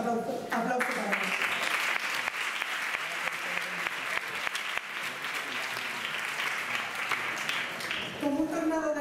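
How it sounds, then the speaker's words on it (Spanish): Loud, sustained applause from a large audience at a carnival proclamation in Ronda, filling the whole stretch at an even intensity, with a voice briefly heard at the start and end. "Y yo también pido un fuerte aplauso para ellos."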